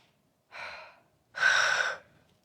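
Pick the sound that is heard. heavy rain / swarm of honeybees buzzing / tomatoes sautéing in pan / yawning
yawning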